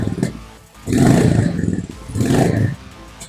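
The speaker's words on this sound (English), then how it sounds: "let's listen to how it sounds now." A Royal Enfield Goan Classic 350 with a shortened, cut exhaust is revved twice up close, each blip swelling into a deep, throaty rumble before dropping back to a low idle burble.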